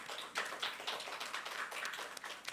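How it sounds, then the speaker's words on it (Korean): A church congregation applauds during a youth worship service, with steady, fairly distant clapping filling the space at a low level. "우리 감사의 마음 담아 한 번 더 찬양의 박수 올려드립시다."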